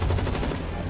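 Gunshots in a PvE shooter against zombies, monsters and robots, with a brief dense crackle of rapid fire that sounds loud and slightly muffled throughout one second.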